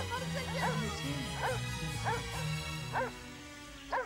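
Dogs bark and yip in quick repeated bursts, close and fairly loud, over a background of music and voices in a Cinderella cartoon.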